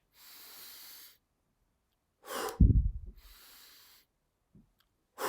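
Energizing chest breathing exercise: a long airy inhale, a pause, then a sharp forceful exhale trailing into a rough snort, another long inhale, and a short puff, all close and quiet with silent gaps.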